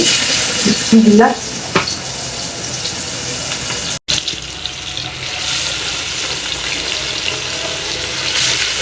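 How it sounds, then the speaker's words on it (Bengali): Hilsa fish pieces frying in hot oil in a home kitchen give a steady, broad sizzling hiss that runs the whole way through, with a brief clatter near the start and a momentary break midway. "এই যে ইলিশ মাছগুলো দিয়ে দিচ্ছি"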